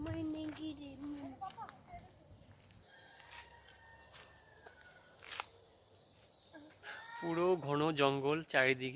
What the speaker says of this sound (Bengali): মাংকি নেই, মুরগি ডাকছে ওটা।